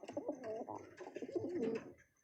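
A sick pigeon, a hen kept in a home coop, coos in low, throaty rolling phrases repeated over a couple of seconds, close and fairly quiet, with no talking.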